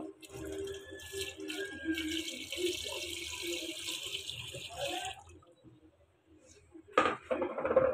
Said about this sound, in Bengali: এখন আমি যেটা করব সেটা হচ্ছে আমি একদম পরিমাণ মতো এখন ডালে পানি দিয়ে দিব।